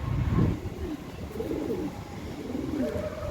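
Andra pigeons coo nearby in soft, rolling low calls, three rounds over a few seconds, with no talking over them.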